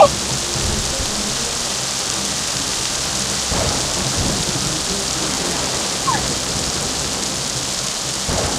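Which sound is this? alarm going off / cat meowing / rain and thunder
rain and thunder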